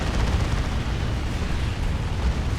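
Heavy weapons fire from Assault Terminators in the strategy game Dawn of War 2, a dense continuous rumble of shots and explosions with no pauses, loud and close.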